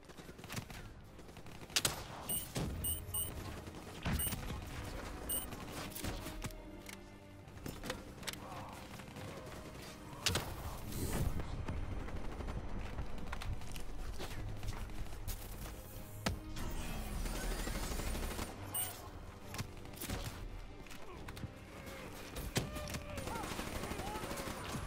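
Gunfire in a Black Ops 3 campaign mission set in World War 2: rapid bursts and single shots crack repeatedly at close range over a constant roar of battle and game effects.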